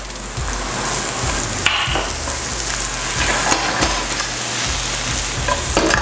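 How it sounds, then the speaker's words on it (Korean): Onions and garlic fry in oil in a pan for lemon cream pasta, a steady close sizzle with occasional stirring scrapes and clinks, no talking. "다음으로 양파를 좀 넣어주도록 할게요."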